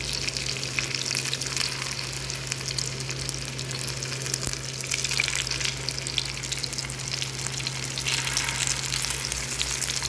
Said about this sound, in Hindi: कबाब हो रहे हैं हमारे फ्राई। इनको हम अब पलट लेते हैं।